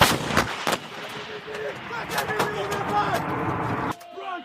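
An M777A2 howitzer fires in a loud, dense barrage of booming reports, with several sharp blasts and a churning roar carrying on for a few seconds before cutting off abruptly. People shout over the gunfire.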